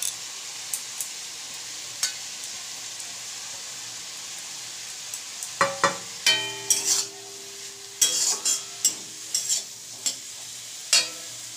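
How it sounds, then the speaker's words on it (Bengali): Tender bethua greens tossed into brinjal frying in mustard oil: a low, steady sizzle, then from midway a run of close clattering stirs and scrapes of a spoon against the pan, with no voices. "বেগুনটা বেশ ভালোই মজে এসছে। এবার শাকটা দিয়ে দেবো।"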